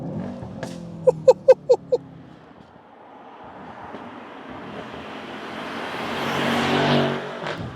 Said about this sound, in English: I can't get over those crackles and pops